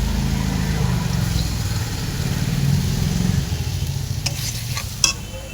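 Crab being stir-fried in a spice masala in a pan, a steady close frying hiss with stirring under it and a couple of sharp scrapes near the end; no voices.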